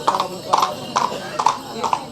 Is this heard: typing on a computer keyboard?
no